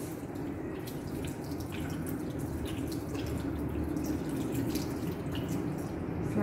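Water runs steadily from a sink tap while hands are rinsed beneath it, a continuous close splashing hiss with no voices.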